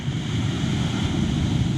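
Low surf on a public beach in Togo with slightly murky water, a steady close wash of waves mixed with wind buffeting the microphone, no voices.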